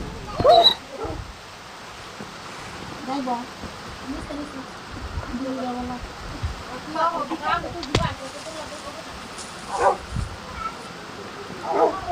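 A dog in the Minecraft video game barks and yips in short scattered bursts over a soft background hiss, with brief pauses between calls.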